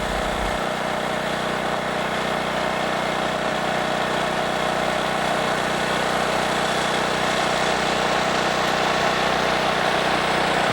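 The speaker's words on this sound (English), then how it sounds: "A small generator would provide power to recharge camera batteries" A small generator runs at a remote wilderness camp in Alaska, giving a steady, even drone that holds at a constant level for the whole stretch with no break and no voices.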